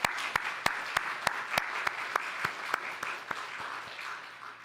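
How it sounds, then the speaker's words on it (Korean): A church congregation claps during a Korean Sunday worship service, a dense, even wash of applause with a strong rhythmic unison beat about four times a second, steady and moderately loud with no speech. "우리 함께 박수로 하나님께 영광을 올려 드립니다."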